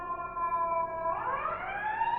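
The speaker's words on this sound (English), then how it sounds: "Finding those purple periods while we're waiting for the siren to finish up." An emergency vehicle siren wails past, its tone holding steady and then sliding upward as it goes by, prominent and continuous with no voices over it.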